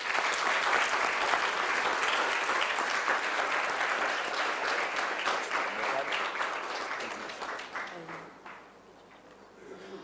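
Steady, dense applause from a large audience at a heads-of-state assembly fills the space for about eight seconds before fading out.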